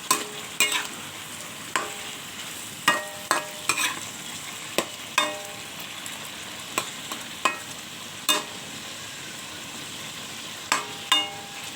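Adobo chicken neck simmers in a pan with a low, steady bubbling hiss, punctuated by a dozen or so sharp scraping clinks of a utensil stirring against the pan at irregular intervals, with no talking.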